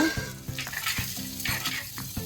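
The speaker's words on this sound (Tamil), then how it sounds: "நறுக்கி வச்ச சின்ன வெங்காயத்தை போட்டுருங்க." Chopped shallots fry in hot oil for a South Indian fish curry, with a steady, crackling sizzle, punctuated by regular scraping taps of stirring.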